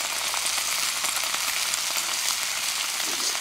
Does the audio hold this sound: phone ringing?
no